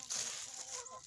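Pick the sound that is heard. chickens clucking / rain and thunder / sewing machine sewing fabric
chickens clucking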